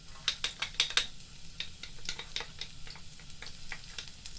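Garlic frying in groundnut oil for stir fry noodles, with a soft sizzle and bursts of stirring scrapes in a pan, loudest early then settling into lighter irregular clatter.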